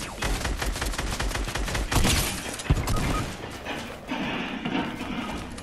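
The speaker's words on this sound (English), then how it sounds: "People shooting from behind." Dense bursts of video game gunfire, rapid overlapping shots and a minigun's rattle loud throughout, with a few sharper cracks and impacts and no clear talk.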